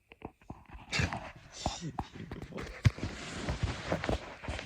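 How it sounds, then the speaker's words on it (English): A pet dog moves about a room nearby, giving soft whimpers, panting and small yips among scattered bumps and rustles, fairly close and moderately quiet. "By the way, I got my dog in here."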